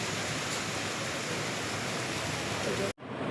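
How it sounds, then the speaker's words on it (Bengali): Storm wind and heavy rain roaring steadily and loud as a dense, continuous wash, cutting off abruptly near the end. "আবার ঝড়টা উঠছে।"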